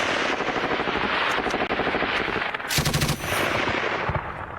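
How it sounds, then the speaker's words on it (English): A general purpose machine gun fires in sustained, rapid bursts during a combat engagement, with a sharp, very loud close volley midway through over continuous battlefield noise. "That's the GPMG firing in."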